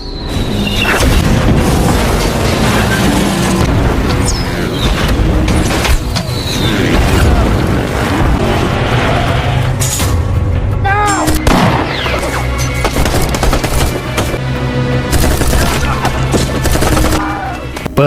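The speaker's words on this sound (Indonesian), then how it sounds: "Pertarungan tembak-menembak pun terjadi dengan senjata dan amunisi seadanya" A film gunfight from The Forever Purge: dense, loud bursts of gunfire, heavy booms and metallic clatter go on almost nonstop, with a few shouts mixed in.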